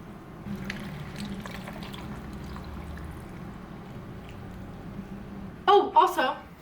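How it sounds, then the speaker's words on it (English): Liquid being poured, heard as a short gurgling, splashing burst of about half a second near the end, after a long stretch of steady low room hum. "Okay, let's pour."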